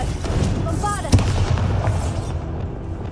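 Bombarda and Confringo explosion spells going off in Hogwarts Legacy: crackling, fizzing magical blasts with one sharp, punchy burst partway through over a rumbling background, with a voice calling out.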